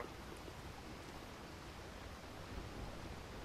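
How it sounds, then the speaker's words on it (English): Waterfall water in the video game Resident Evil 4, a steady, dense rushing roar that fills the whole stretch at an even level with no breaks. "Waterfall is going to be the worst because of the audio."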